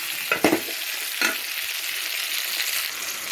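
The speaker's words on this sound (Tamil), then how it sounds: "இப்போ பாருங்கள், தக்காளியும் வெங்காயமும் நல்லா வதங்கிடுச்சு" Tomatoes and onions sautéing in a pan for a garlic pepper curry, a steady soft sizzle with a few louder stirring scrapes near the start, no voices.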